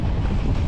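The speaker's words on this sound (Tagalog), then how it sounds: "Papatay na ang makina." A boat engine runs on a lobster fishing trip. The rumble is loud and steady in a very short burst, mixed with heavy wind buffeting on the microphone.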